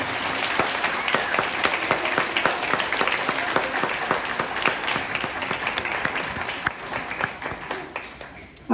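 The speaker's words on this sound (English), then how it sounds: "Please give a round of applause." Audience applauding after a stage play at a community cultural performance, a dense sustained wash of clapping from many hands that continues steadily before fading near the end.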